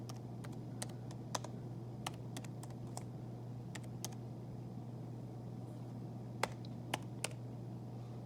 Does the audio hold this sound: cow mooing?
no